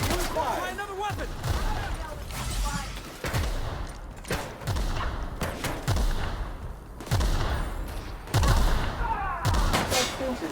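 Heavy weapon fire in The Outer Worlds during a boarding fight with freebooters, bursts of loud, booming shots repeating irregularly over a dense, noisy game soundscape with occasional talk.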